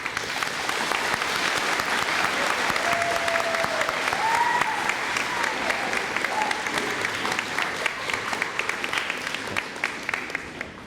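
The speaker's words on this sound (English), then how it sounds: "Let's give him a round of applause." An audience at an elementary school fifth-grade graduation ceremony applauds steadily, a dense, sustained clapping from a sizable crowd that keeps going for around ten seconds.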